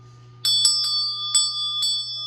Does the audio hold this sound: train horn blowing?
no